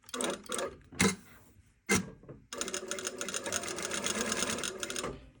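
Two short stitching bursts with pauses come first, then a sustained run of close, rattling mechanical whir as a sewing machine sews an exposed zipper. No one speaks.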